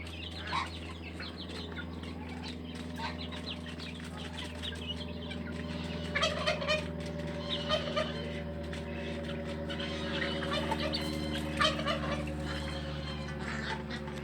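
Two-month-old chicks peep and cluck in scattered bursts close by, with a steady low mechanical hum running underneath throughout.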